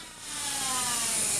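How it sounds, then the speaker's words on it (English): A handheld router cuts an opening through drywall around a metal electrical box, giving a steady, close, high-pitched whirring grind that swells slightly after the start and holds with no talking. "causes the drill bit of the router to kind of stick to the object that you're cutting out"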